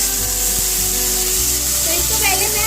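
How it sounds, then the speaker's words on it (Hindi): Onion, tomato and chilli frying in a pan, a steady close sizzle with occasional stirring clatter and faint crackles, held at an even level throughout. "तो इसको पहले मैं अच्छे से थोड़ा सा गोल्डन ब्राउन करके फ्राई कर लूंगी"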